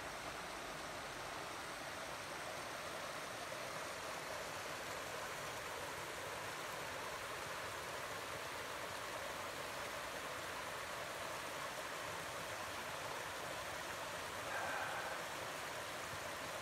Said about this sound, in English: Can you hear the water rushing down there?